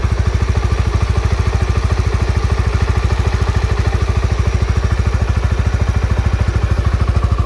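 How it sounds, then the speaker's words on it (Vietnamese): A Honda Winner X motorcycle engine idles close up with a rapid, steady mechanical putter and clatter, loud and unchanging throughout, with no talking. "Ok, các bạn nghe tiếng máy."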